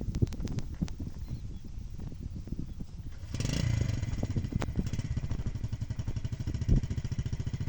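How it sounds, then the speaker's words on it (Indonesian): A motorcycle used to haul harvested rice from the paddy rumbles nearby with a low, uneven engine chug, along with clattering and scraping from the load over rough ground. "Motor jasa angkut siap meluncur dengan jurus kereta api."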